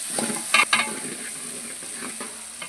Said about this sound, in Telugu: ఆనియన్స్ వేసుకొని ఇప్పుడు కలిపేద్దాం